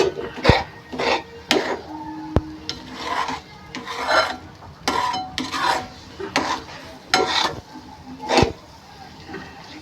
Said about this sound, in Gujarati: મહત્વનું એ છે કે આને મિક્સ કરતા રહેવું પડે કન્ટિન્યુ.